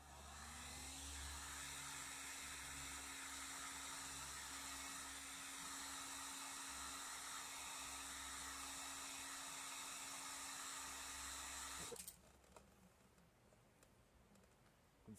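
A heat gun blowing hot air onto a VW Atlas badge to soften it for removal, a steady loud whirring hiss for about twelve seconds that then cuts off, leaving quiet room sound.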